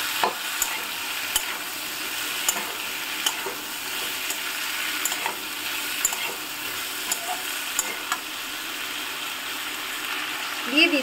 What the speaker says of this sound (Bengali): এই সময় গ্যাসের ফ্লেমটাকে মিডিয়ামে রেখেই নাড়ব।